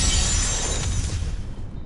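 An explosion in the video game Diablo II bursts out as a short, loud crackling blast with a shattering, debris-like texture that fades within about two seconds, no speech.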